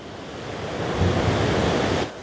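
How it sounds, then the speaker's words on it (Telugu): Ocean waves crash on rocks near a sea arch at Shantytown, New Zealand, in a continuous broad roar, swelling slightly midway, with a breezy wash around them. "చూడండి ఎంత వేగంగా వస్తున్నాయో అక్కడ అలలు"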